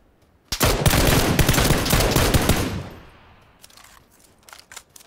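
Sustained automatic gunfire in PUBG, a dense loud burst of rapid shots lasting about two and a half seconds before tapering off, followed by a few faint scattered shots.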